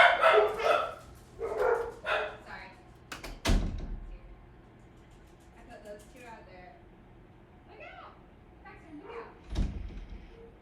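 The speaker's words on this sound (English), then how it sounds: "we have a dog getting dropped off the dog sit today" A visiting dog barks in a room, a few sharp, loud barks, with thumps that sound like a door, amid people talking.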